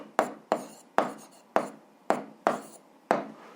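Seven sharp taps and scratchy strokes of writing, evenly spaced about half a second apart, each fading quickly, as an answer to a seventh-grade physics exercise is written down; no voices.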